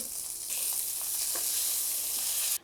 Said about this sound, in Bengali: ডিমগুলো ভাজা হয়ে গেছে সুন্দর কালার করে ভেজে নিয়েছি